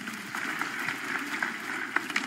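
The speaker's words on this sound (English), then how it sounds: "Shall we put our hands together and clap for Jesus?" A church congregation at a Sunday testimony service claps together, a steady mid-level patter of many hands with a few sharper claps standing out.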